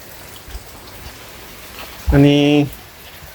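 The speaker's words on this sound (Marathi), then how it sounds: "पाऊस थोडा जास्त पडत आहे" Monsoon rain falls steadily on a village during the first rains of the season, a soft, even hiss in the background, briefly interrupted by a short spoken word from a nearby person.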